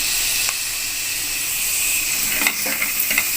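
Tomatoes fry in a pan for vegetable biryani with a loud, constant sizzling hiss. Near the end, a few soft clinks of stirring sound over it.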